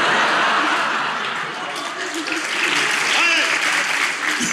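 Studio audience applauding during a Turkish relationship-test talk show, a steady, fairly loud wash of clapping that holds for several seconds, with chuckles and voices mixed into the crowd noise.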